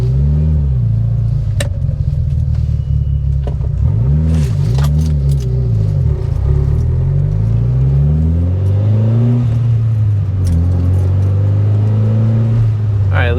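A car sweeps past close by, its engine rising and falling in pitch as it approaches and recedes, a loud rumbling whir that later passes again under the idle of another engine.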